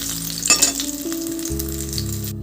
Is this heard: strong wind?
no